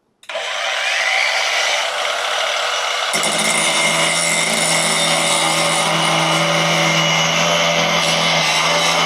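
A cordless power tool spins up at its first, lowest speed and keeps running with a steady, loud high-pitched whine, its tone shifting slightly after a few seconds, with no talking.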